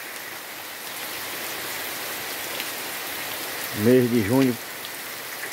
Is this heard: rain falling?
yes